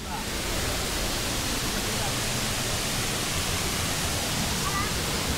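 Waterfall in the UK: a steady, loud, close roar of falling water filling the whole clip without a break.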